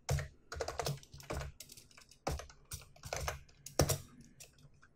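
Fast, uneven computer keyboard typing while coding a 2D player controller in C# and Unity, close and alone, with bursts of clacking keystrokes separated by short pauses.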